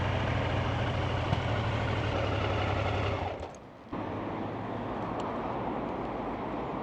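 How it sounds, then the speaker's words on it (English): A motorcycle's engine idles at a filling station while an air pump runs, a steady low mechanical drone that briefly drops out and then resumes, close and continuous with no talk. "I'm just going to pop in there and get some air in my tyres"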